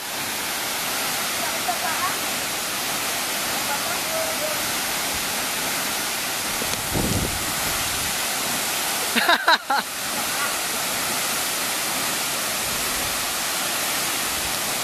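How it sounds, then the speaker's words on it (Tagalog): A waterfall at Dampalit Falls roars steadily and loudly through the whole stretch, a dense unbroken wash of rushing water, with brief voices and shouts briefly breaking through near the middle. "Lakas na tubig!"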